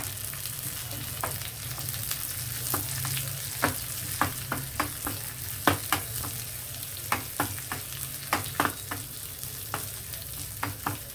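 A dal tempering of dried red chillies, coriander and curry leaves sizzles steadily in hot oil, broken by frequent sharp clicks and scrapes of a spoon stirring the pan at an uneven pace, close up.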